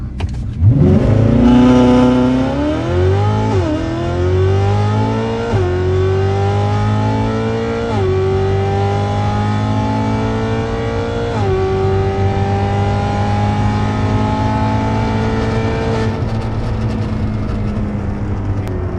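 A Ferrari accelerates hard in a 0-100 drag test, its engine roaring loudly and climbing in pitch through about five quick upshifts, each marked by a brief dip before the revs rise again, close and continuous.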